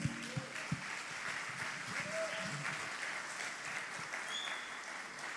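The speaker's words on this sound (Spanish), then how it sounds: "Un aplauso." Applause from a church congregation during a healing service, a steady wash of clapping throughout, with a few louder claps near the start and faint voices mixed in.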